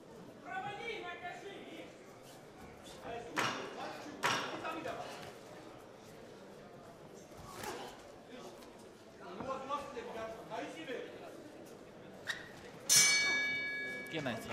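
Bell gong rings out at a combat sports bout, a bright ringing strike near the end of the round standing out over crowd noise and ongoing commentary.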